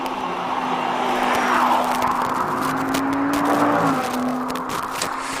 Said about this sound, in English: Oh, that Audi R8.